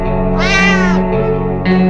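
A video game cat lets out several loud, clear meows in a row, the first long and rising, the others shorter, over a constant game soundtrack hum with no talking.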